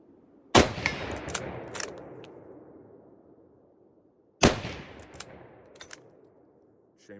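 A Lee-Enfield SMLE rifle fires two loud, sharp shots several seconds apart, each ringing off in a long echo, with clacks of the bolt cycling between them.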